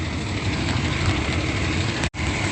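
A truck engine idles with low exhaust rumble, a continuous steady drone with one brief dropout near the end and no speech.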